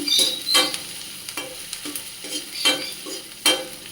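Garlic sizzles steadily in hot frying oil for a Bengali raw papaya fry, a close, continuous hiss broken by several sharp scraping bursts of a utensil stirring the pan, with no talking.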